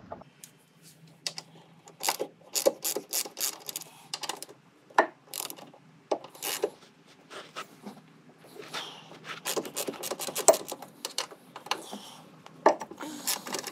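A ratchet undoes the coilover strut bolts on a Datsun S30: quick bursts of close, crisp clicking come in uneven runs with short pauses between, and no one talks.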